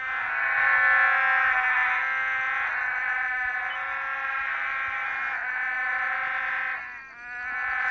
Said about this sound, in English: It's frogs.